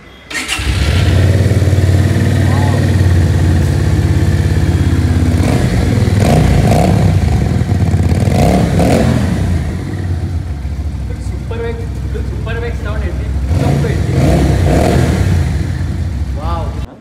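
A Benelli motorcycle engine cranks, catches and idles, then revs up several times, loud and close throughout, with people talking over it.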